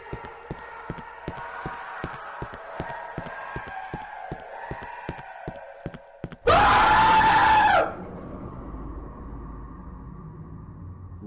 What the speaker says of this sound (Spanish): con gritos desgarradores que generan la tensión justa para el terror